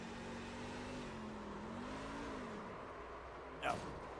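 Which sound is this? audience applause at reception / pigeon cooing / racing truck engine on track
racing truck engine on track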